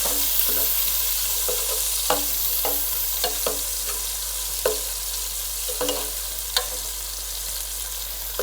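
Onions fry and sizzle in a pan for chicken macaroni pasta, with continuous hiss and repeated close stirring scrapes and taps, no voices.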